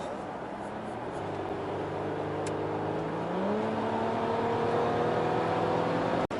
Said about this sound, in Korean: 스포츠 모드로 한번 주행해 보도록 하겠습니다